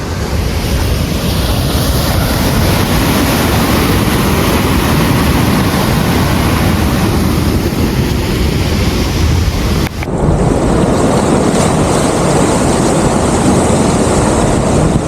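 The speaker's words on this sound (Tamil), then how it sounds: "அலை என் காலுக்கு பக்கத்தில் அடிக்குதுங்க" Continuous roar of ocean surf washing in close by at the feet on a beach in Chennai, India, with gusty wind buffeting the microphone throughout.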